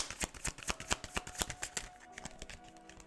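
Tarot cards riffle and snap in a rapid run of crisp, close slaps during a love and career reading, then ease into softer sliding and drawing sounds as a card is pulled out.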